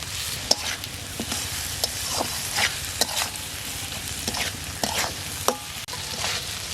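Turmeric, chili powder and green chilies sautéing in a pan for egg and masoor dal, a steady close sizzle broken by frequent scraping stirs of a spoon against the pan, with no talking.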